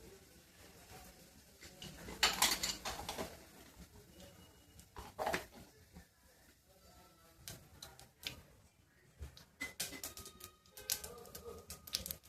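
Mustard seeds and cumin spluttering in hot oil for a buttermilk saaru, giving a string of sharp, irregular pops and crackles, close and moderately loud, with no talk.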